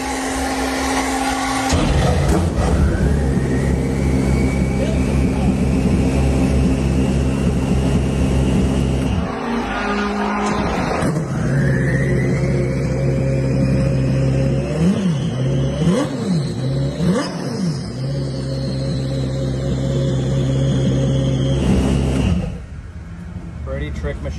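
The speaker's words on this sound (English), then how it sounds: "So you would hit your ignition, and now this is direct injection, so this thing's things happen pretty quick here." A BMW M3 GTR race car's direct-injection engine starts and revs, its loud steady roar rising and falling through several sharp throttle blips over a sustained drone, with a voice speaking over it.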